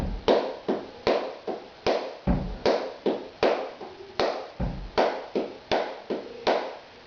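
Flamenco palmas for bulerías, played with the six accented, as a steady run of sharp, close hand claps of fairly even strength, about two or three per second with no voices.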